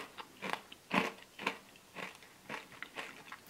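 Crunchy macadamia nut brittle pieces in Häagen-Dazs ice cream being bitten and chewed, a series of sharp, close crackling crunches spaced roughly half a second apart, with no talking.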